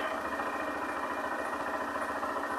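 A 2008 Honda Fan 125 motorcycle engine runs at a steady idle, close and loud, a continuous throbbing rumble with no talk over it.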